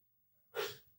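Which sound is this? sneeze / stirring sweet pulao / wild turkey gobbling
sneeze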